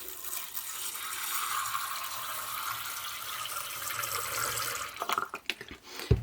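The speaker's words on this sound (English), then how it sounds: "So first off, we're going to take some clean water." Clean water runs steadily from a tap into a container for washing Citadel paint brushes, a continuous close splashing stream that breaks into a few sloshes and drips at the end.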